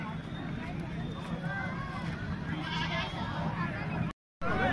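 Goat bleating at a crowded livestock market in Manawar, Dhar district, wavering calls rising out of a constant hubbub of voices and background chatter, ending in a brief cut of silence.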